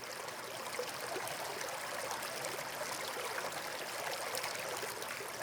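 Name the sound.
small stream trickling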